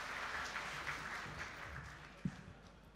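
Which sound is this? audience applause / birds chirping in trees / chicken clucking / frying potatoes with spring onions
audience applause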